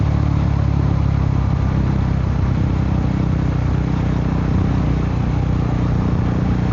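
The single-cylinder engine of a KTM RC390 motorcycle runs in a constant, dense, close drone with no breaks and no talking over it.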